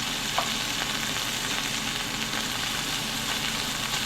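Meat sizzles and fries in a hot 8.5-inch pan while cooking Vietnamese banh xeo, a steady dense crackling hiss that stays even and close throughout, with no talking.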